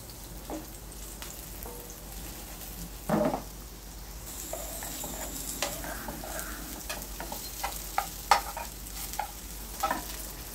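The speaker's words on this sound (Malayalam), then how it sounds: "വീണ്ടും ഇതേപോലെ തന്നെ ബാക്കിയിരിക്കുന്ന ചിക്കനും കൂടെ ഫ്രൈ ആക്കി എടുക്കുകയാണ്." Remaining chicken pieces frying in a pan for butter garlic chicken, a steady soft sizzle throughout with occasional clinks and scrapes of stirring, fairly quiet and with no talk.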